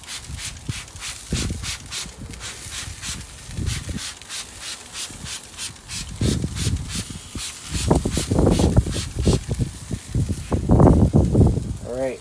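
Rapid repeated spritzes from a spray bottle onto a pork shoulder in a smoker, a quick rhythmic hissing, close up, with a person talking over it at times.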